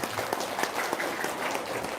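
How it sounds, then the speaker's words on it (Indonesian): Steady applause from an audience at an Islamic religious talk, a soft, even wash of clapping held at moderate distance for about two seconds with no voices over it. "Tepuk tangan dulu dong."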